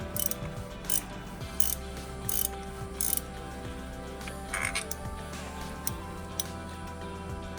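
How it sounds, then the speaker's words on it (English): A 1/2-inch ratchet with a medium extension and a 9/16 spark plug socket clicks steadily as it turns out Toyota spark plugs, a close, repeated series of ratcheting pawl clicks with no talking. "I'm using a Sparkplug socket. It's a 1916 with a medium-sized extension and a 1/2-inch ratchet."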